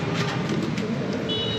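Breeder pigeon cooing in a loft, a low, throaty coo close by over a dense, steady background hum.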